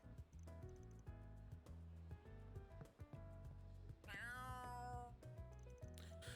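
A cat meows by a window in the Trails Through Daybreak video game, one drawn-out rising and falling meow clear over steady, busy background game music.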